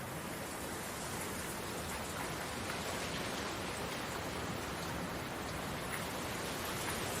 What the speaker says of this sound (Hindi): मगर रास्ते में बहुत तेज बारिश होने लगी।